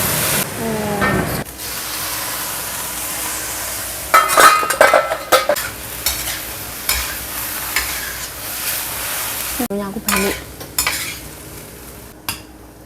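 Bamboo shoots with garlic and added water cook in a pan, with a sizzling simmer broken by bursts of utensil scraping and clattering against the metal, loud and close, and some talking between the stirs.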